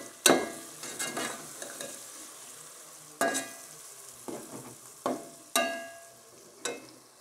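Green chilies and spices stirred in a pot, a row of sharp metallic spoon knocks and scrapes against the vessel over a faint sizzle, each stroke fading quickly, with no one talking.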